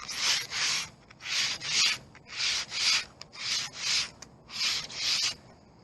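Hand sanding along the grooves of a UPVC door frame: six evenly paced back-and-forth strokes with a bright, hissing rasp, close and loud, with no talking.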